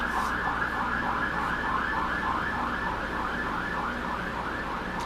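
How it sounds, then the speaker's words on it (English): A wailing emergency siren cycles up and down repeatedly, moderately distant and steady, over low traffic rumble with no one speaking. "I'll let the sirens pass."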